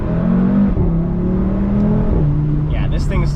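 An Audi RS3 or BMW M2 pulls hard under acceleration, its engine note rising steadily through gears with a brief shift dip, loud and close from inside the cabin, with faint speech over it.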